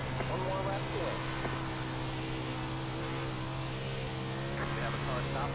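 Sprint car racing with 410 sprint cars on the Volusia dirt oval, a steady loud engine drone held throughout from close by, with faint voices over it.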